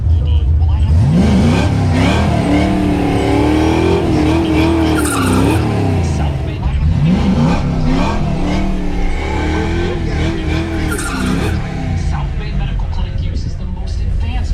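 A Fox Body Mustang drag car on Mickey Thompson full slicks, running heavy nitrous, roars loud and close with rising and falling revs and tire squeal at the drag strip, sustained throughout with no talk.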